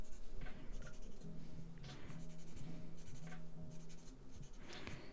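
Pencil sketching on paper, with continuous close scratchy strokes in quick rhythmic bursts and short pauses, steady and moderately loud, no talking.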